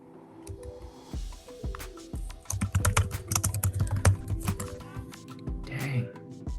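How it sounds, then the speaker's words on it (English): Hard, fast typing on a computer keyboard: dense bursts of sharp clacking keystrokes build in intensity, close and loud, with faint background sound at the start. "She's typing hard."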